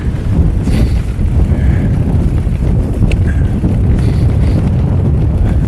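Strong cold wind roars and buffets against the microphone during a mountain bike ride on Rattlesnake Mountain, a loud, continuous low rumble with no talk.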